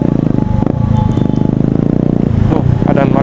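A motorcycle exhaust rumbles steadily while riding through traffic at night on a homecoming trip, a loud low pulsing drone with a voice briefly audible over it.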